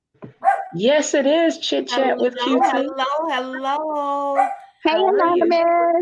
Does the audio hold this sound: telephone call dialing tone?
no